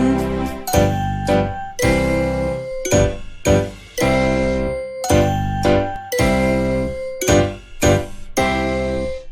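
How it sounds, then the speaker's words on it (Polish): Bells from the Polish children's song "Panie Janie" ring and jingle in bright, repeated bursts with a steady rhythm throughout, loud and close, with no talking. "Wszystkie dzwony biją, wszystkie dzwony biją."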